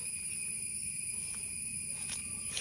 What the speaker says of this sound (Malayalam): ഭയങ്കരമായിട്ട് ചീവീടുകൾ ഇങ്ങനെ കരഞ്ഞുകൊണ്ടിരിക്കുക.